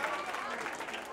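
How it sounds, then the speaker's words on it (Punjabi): A crowd claps steadily at a charity marriage function for needy girls, a moderately quiet wash of applause with a voice talking over it. "ਤਾੜੀਆਂ ਦਿਓ ਜੀ"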